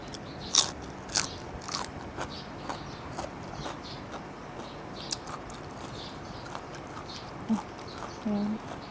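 Someone bites into a giant apple snail eaten with spicy papaya salad, producing faint, sharp crunches spaced out over steady low background noise, recorded close.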